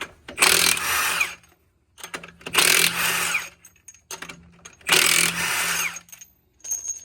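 An impact wrench working the lug nuts off a wheel on a 4th gen Cummins truck, several loud rattling bursts of about a second each, separated by short pauses and a few quieter blips.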